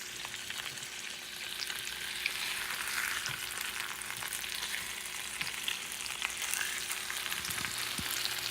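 Salmon frying in a pan, a steady close sizzle and crackle of hot fat running throughout with faint occasional pops.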